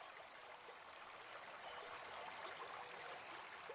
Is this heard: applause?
no